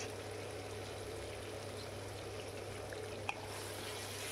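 Mutton mince with salt and turmeric sizzles steadily in a pan for jackfruit mutton keema, a continuous even frying hiss with one brief click near the end.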